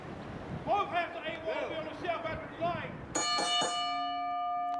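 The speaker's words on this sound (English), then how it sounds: "And there's the bell" At a wrestling main event, a ring bell gives one loud, clear strike that rings on and slowly fades, following a stretch of excited commentary.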